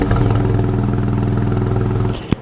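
A 2026 Ram 1500 Rebel GT with an inline-six and factory exhaust revs steadily and close by, a deep throbbing drone held for about two seconds before cutting off with a sharp click.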